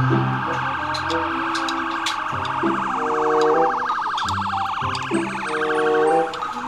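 A toy ambulance blares a repeating electronic siren, a two-tone wail cycling rhythmically and loud at close range with no voices.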